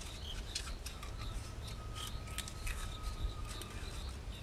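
Teflon tape is stretched and wrapped around a pipe thread while fitting a rainwater booster pump, giving close, faint rubbing and squeaky scraping strokes in an irregular rhythm.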